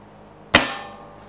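A pellet gun fires a single sharp crack at a small Lego figure, the short snap followed by a brief ringing decay in an otherwise quiet room.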